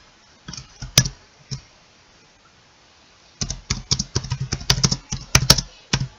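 Typing on a computer keyboard, close and crisp, a few isolated key clicks followed by a quick run of rapid tapping, with no talking.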